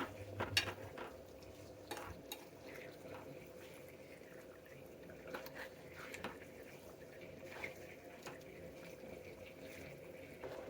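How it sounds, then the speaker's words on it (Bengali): Fish pieces are stirred with spices in a cooking pan, giving soft, steady scraping and occasional light clinks of the utensil, faint and low against a quiet kitchen background. "মাছ দেওয়া শেষ, এখন একটু কষাবো মাছগুলা মশলার সাথে।"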